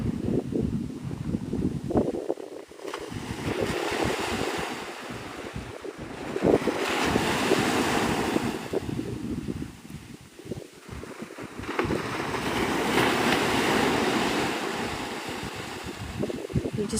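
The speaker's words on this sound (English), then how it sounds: "These waves are so dramatic." Ocean surf breaks on the beach at Navarre Beach, Florida, in broad rushing swells that rise and fade every few seconds, with wind buffeting the microphone and no talk.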